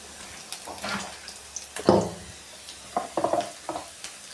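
Capsicum and cauliflower fry in a pan for gobi manchurian, giving a soft sizzle broken by a few clattering stirs and scrapes of a spoon, with no talking.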